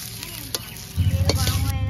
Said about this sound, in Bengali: কচুলতি ভাজা হয়ে গেছে